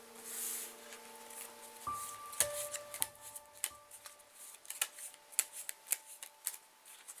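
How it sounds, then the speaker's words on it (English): IQ Math game cards riffle and snap in repeated quick bursts as they are shuffled, close and crisp, with a brief soft tone near the start. "Step 1 in playing IQ Math is to shuffle the cards."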